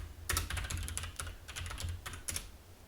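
Fingers typing a command on a computer keyboard, a quick uneven burst of close, light key clicks in small clusters over about three seconds, fairly quiet with no talk.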